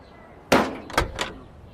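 Car door handled close by: one heavy thunk followed by two softer knocks, loud and near, with no talk.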